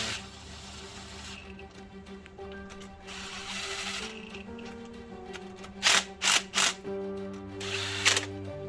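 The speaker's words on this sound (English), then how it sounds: "Torque wrench on it." A torque wrench ratchets and clicks on bolts of a Kraken-built Mazda MX-5 engine, with short, sharp bursts of ratcheting close by against a quiet background and faint mechanical clinks between them.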